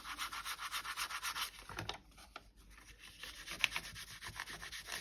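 Polymer clay mokume gane piece being sanded by hand: close, steady back-and-forth rubbing strokes with a brief pause midway before the scraping resumes.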